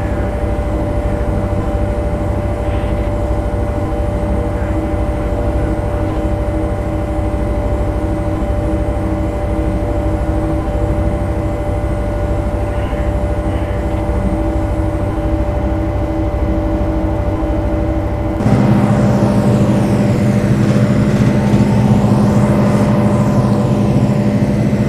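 Simulated diesel locomotive in Train Simulator 2012 rolls under steady throttle on the Transcontinental Link route, a continuous loud engine drone with low rumble that shifts to a heavier, rougher tone near the end, no voices.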